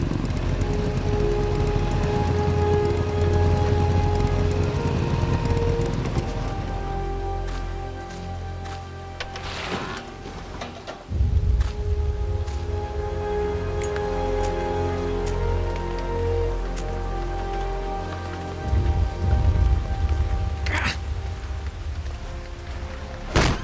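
Rain falls steadily in Metal Gear Solid: Peace Walker, a continuous dense patter with a low rumbling bed beneath it, and a few brief louder bursts and tonal game sounds rise and fall over the downpour.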